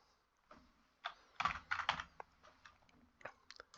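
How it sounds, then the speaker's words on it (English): Typing on a computer keyboard at a desk, a series of close, crisp key clicks in irregular bursts with short pauses, no one speaking. "you're just going to type in inst, I-N-S-T,"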